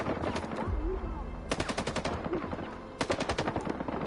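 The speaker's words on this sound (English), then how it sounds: "so they're just shooting at something out there" Bursts of rapid automatic gunfire in S.T.A.L.K.E.R. 2, fairly close, come in three volleys of quick repeated shots separated by short gaps.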